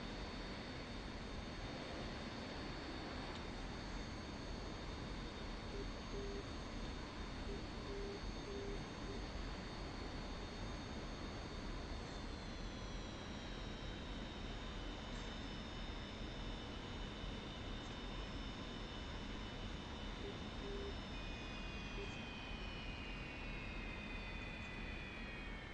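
Jet aircraft engine spooling for takeoff in the DCS World flight simulator, a steady distant roar with high whining tones that slowly drop in pitch, heard alone at low level.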